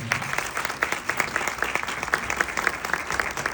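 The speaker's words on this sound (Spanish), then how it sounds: "Recibimos con el fuerte aplauso a Juan Pablo Caivano." An audience gives a welcoming round of applause for a speaker at a talk, dense and continuous clapping that holds steady and close without pause.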